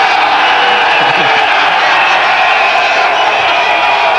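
A big cricket crowd at a Pakistan versus New Zealand 1999 World Cup match roars and cheers steadily, a dense, loud wall of voices, whoops and applause filling the whole stretch.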